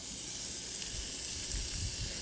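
Food sizzles in a cast Dutch oven used as a frying pan over emergency cooking fuel, a soft, steady frying hiss with faint crackles, quiet and continuous, with no talking.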